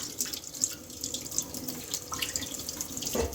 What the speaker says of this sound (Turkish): Şimdi onları tek tek yine yıkıyorum.